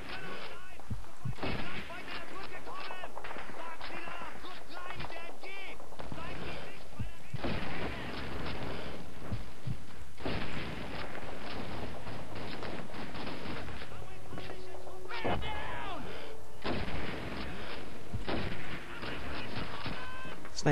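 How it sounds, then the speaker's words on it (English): German mortar fire in the WWII shooter Call of Duty 2, heavy blasts land again and again amid crackling gunfire and bursts of machine-gun fire, with voices shouting through the battle noise. "German mortar team in the field to the southeast!"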